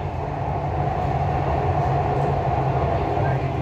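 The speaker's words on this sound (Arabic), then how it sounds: "The final destination of this train is Center Point." Dubai Metro train running steadily, with a continuous low rumble and rolling rail noise heard from inside the carriage, even and unbroken throughout.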